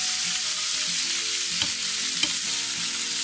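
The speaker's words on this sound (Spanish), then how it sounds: "No puede parar de freírse." Raxo pork and potatoes frying in a pan give off a loud, continuous sizzle with a couple of brief clicks of stirring, and no voices.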